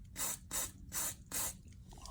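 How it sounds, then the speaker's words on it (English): WD-40 penetrating oil sprayed onto a stuck exhaust bolt during an aftermarket exhaust install on a Hyundai Genesis Coupe, four short hissing bursts in steady succession, close and fairly quiet. "So I got some WD-40."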